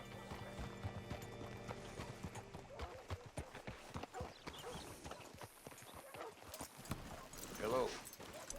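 Horse hooves clip-clop in Red Dead Redemption 2, a steady near rhythm of footfalls followed by a brief whinny, with people talking over it.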